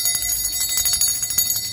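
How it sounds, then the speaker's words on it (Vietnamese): A hand-cast natural brass bell rings with a bright, sustained metallic tone and repeated strikes in a steady rapid pattern, loud and close throughout. "Đó, một con chuông đồng rất là hay luôn các bác nhá."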